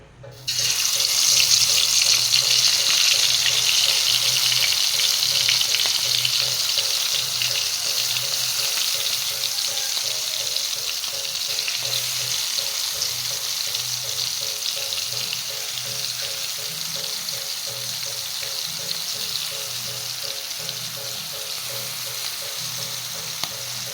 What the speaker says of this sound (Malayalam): എണ്ണ നന്നായിട്ട് ചൂടായിട്ടുണ്ട് നമുക്കിതിലേക്ക് കൊഞ്ചിനെ ഇടാം